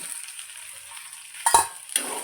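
Food sizzles steadily in a hot pan, with a louder burst of stirring and scraping around midway and a second short stir just after, all with no talking.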